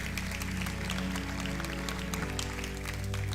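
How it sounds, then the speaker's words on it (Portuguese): A church congregation applauds during a worship service, a dense steady patter of many hands at moderate level, continuous throughout with a faint murmur beneath. "Pode aplaudir o Senhor."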